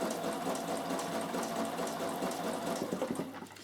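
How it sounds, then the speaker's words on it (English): A Bernina sewing machine stitching back and forth, its motor whirring in a steady, continuous drone with a fast needle chatter that wavers slightly toward the end. "Start stitching, but instead of going the other way, I'm going sideways and I'm scribbling it backwards and forwards."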